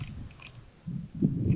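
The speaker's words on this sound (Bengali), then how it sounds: "পাতায় হাওয়ার আওয়াজ" Wind moves through the leaves of a quiet forest along the Singalila trek between Tumling and Chitrey. It makes soft, irregular rustling gusts that swell louder near the end, with no voices.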